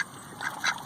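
A backyard duck quacking twice in quick succession, close and moderately loud, with quiet background.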